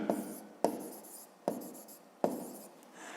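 Writing on a board during a fifth-grade math lesson makes a series of four scratchy strokes, each starting with a firm tap and trailing into a soft rub, close and fairly quiet.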